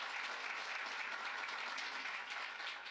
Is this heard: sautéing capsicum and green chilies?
no